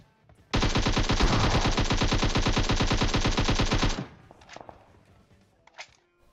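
Rapid sustained automatic gunfire in PUBG Mobile, loud and close for several seconds, then stopping, followed by scattered faint clicks and thuds.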